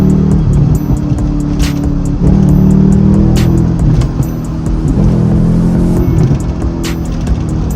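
A Chevy Camaro SS with a crackles-and-pops tune drives along, its exhaust a loud, steady low drone heard from inside the car, with sharp crackling pops scattered throughout.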